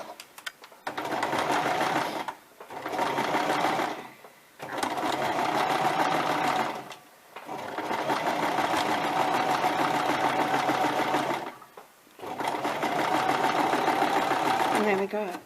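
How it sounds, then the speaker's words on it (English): A sewing machine stitches fabric over pins in loud, close runs of rapid mechanical whirring, with about five bursts separated by short pauses. "Okay, so we're back at our sewing machine."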